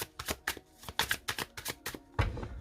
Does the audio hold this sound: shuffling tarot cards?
yes